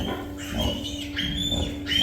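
Pigs in a farm pen give off a steady stream of low grunts and snuffles, close and fairly loud, with a few higher squeals rising over them.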